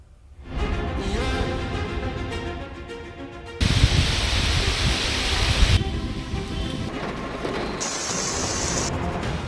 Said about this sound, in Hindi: 60 से लेकर 90 किलोमीटर प्रति घंटे की रफ्तार से तेज आंधी तूफान, कड़कती बिजली और ओलावृष्टि